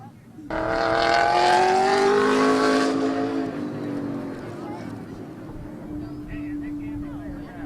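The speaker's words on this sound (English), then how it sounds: "Dave McCallicker in the 47 spinning during his qualifying lap down in turn 1" A late model race car at Midvale Speedway roars loudly and nearby, its engine rising in pitch, then cuts off abruptly as it spins in turn 1, leaving a fainter engine hum in the distance.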